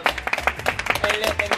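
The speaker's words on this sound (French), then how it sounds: "On applaudit s'il vous plaît." An audience claps briefly in a lively French comedy setting, the scattered claps mixing with voices, laughter and a low rumble underneath.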